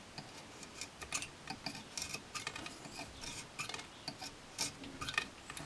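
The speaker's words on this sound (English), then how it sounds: "Just run the knife over the top of it" A knife blade scraped lightly across a heat-softened vinyl decal, giving repeated short dry rasping strokes in an uneven rhythm, close and fairly quiet.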